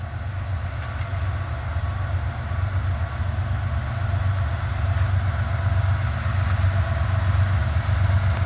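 A freight train hauling auto rack cars rolls past, a loud continuous low rumble and rattle of wagons with faint clanking, steady throughout.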